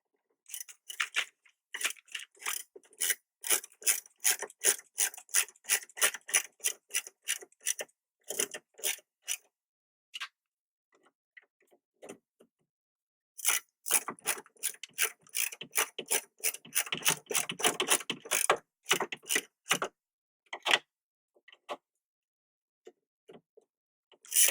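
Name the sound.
ratchet socket wrench tightening 2007 Honda Civic mirror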